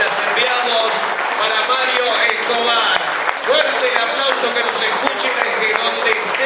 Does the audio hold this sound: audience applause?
yes